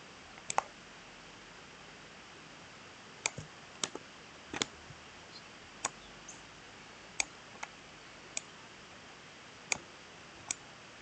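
Sparse computer keyboard key presses during 3D modeling work, isolated sharp clicks at irregular intervals over a quiet, faint background hiss.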